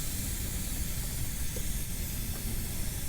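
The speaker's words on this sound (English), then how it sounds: "rotate the chain and apply some cleaner and go all the way around" Steady aerosol spray hissing as chain cleaner is applied to a rotating BMW motorcycle chain, a continuous close, even hiss with no breaks and no talking.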